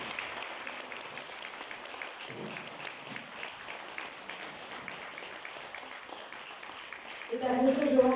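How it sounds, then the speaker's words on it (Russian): Quiet, steady clapping from the audience at an evening concert honouring a competition laureate, a faint patter throughout before a voice cuts in at the end. "Аплодисменты."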